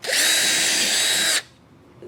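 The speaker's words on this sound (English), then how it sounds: "I'm going to pre-drill some holes" A drill bores a pilot hole with a 1/8 inch bit into wood for a hay rack, a steady high whine for over a second that stops abruptly, leaving quiet room tone.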